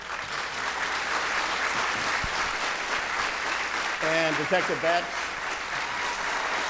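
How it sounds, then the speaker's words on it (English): Audience applause for a speaker at a public event on homelessness and crime in Washington, steady and sustained throughout, with a voice speaking briefly over the clapping partway through. "big round of applause for Andrea Suarez"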